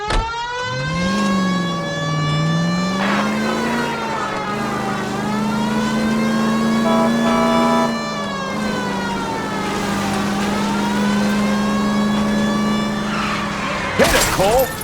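In L.A. Noire, a car engine drones and revs steadily through a 1940s Los Angeles chase, its pitch rising and falling with acceleration, while a wailing siren and a glassy crash near the end rise over it.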